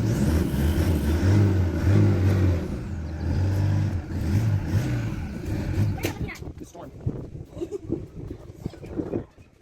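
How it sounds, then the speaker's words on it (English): A turbocharged car with an intercooler and stock exhaust idling and running nearby, a deep, steady engine rumble that dominates before fading as wind and movement take over, with someone talking over it. "If you listen to the exhaust pipe while it's running, it has a kind of deep sound."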